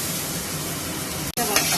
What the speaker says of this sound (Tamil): ஓரளவுக்கு ஃப்ரை பண்ணிக்கிறேன்